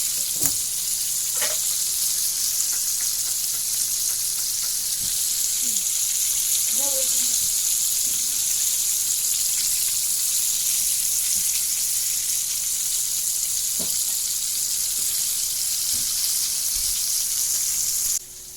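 Chicken fries in hot oil with a loud, steady, close-up sizzle throughout, broken by occasional clinks and brief distant voices in the background.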